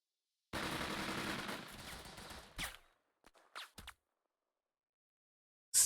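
Sustained rattling gunfire rolls for about two seconds in a World War II tactical strategy game, followed by several short separated bursts and pops, then a final sharp crack.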